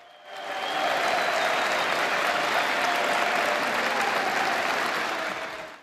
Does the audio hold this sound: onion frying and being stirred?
no